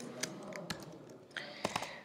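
Typing on a computer keyboard produces a few quiet, scattered keystroke clicks in uneven bursts, close by, with no speech.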